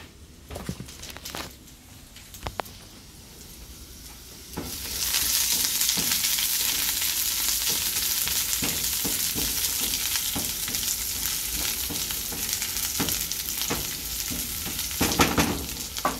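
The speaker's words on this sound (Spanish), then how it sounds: "Les estoy haciendo un bistec con cebollita, chile verde, ajo y un poquito de consomé." Beef steak frying in a pan with onion, green chile, garlic and a little broth, a loud steady sizzle that starts suddenly and runs on, with occasional stirring clatter and scrapes.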